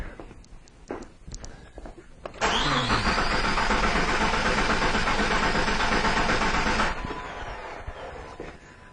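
A 2004 Jeep Cherokee with a fuel delivery fault cranks briefly with a few ticks, then its engine catches and roars loudly for about four seconds before settling to a quieter run, heard close up with no talking.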